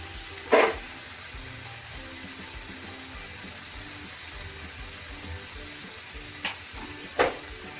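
Tomato paste with salt, turmeric and chili powder sautéing in a pan for a Bengali dhaba-style chicken bharta, a steady low sizzle with a few sharp scraping stirs near the start and end, no talking.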